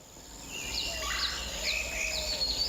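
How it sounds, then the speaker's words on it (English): Birds sing in short, high chirps repeated every half second or so, faint and somewhat distant over a low steady hum, with no voices. "Oh, I hear birds."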